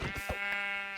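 A Minecraft sheep gives a single buzzy, nasal bleat, close and steady for about a second, with no voices over it.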